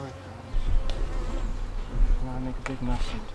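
Honey bees buzzing steadily at an open beehive during an inspection a few days after a split, a close continuous drone with brief bumps and faint voices in the background.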